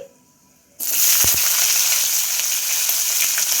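Long-cut onions, three small ones, hit hot oil in a kadai with a sudden loud sizzle after a quiet moment, then keep frying in a steady, close hiss with a couple of brief clacks.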